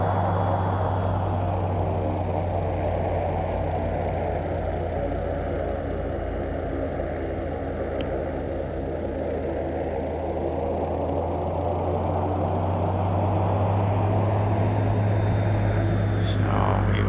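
An ATR72 turboprop airliner taxiing in a flight simulator, its steady propeller drone and deep engine hum continuous and loud, with someone talking over it throughout.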